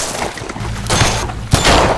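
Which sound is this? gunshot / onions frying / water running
gunshot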